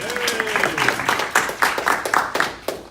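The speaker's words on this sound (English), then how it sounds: "Let's give her a round of applause." A small audience claps for a woman being introduced at a morning community event, giving a brief round of applause; a few individual claps stand out, with a faint voice at the start.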